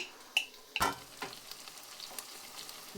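Beef fry with black pepper being stirred in a pan, giving a soft background sizzle broken by a few sharp spoon scrapes and clinks, close and moderately quiet, with no talking.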